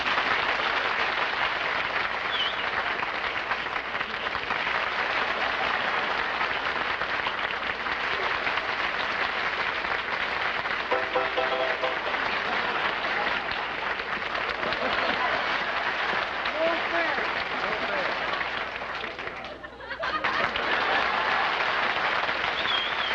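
A television studio audience applauds loudly and continuously for over twenty seconds, a dense, sustained roar of clapping with a brief dip near the end, as contestants compete for applause in a 1950s comedy show.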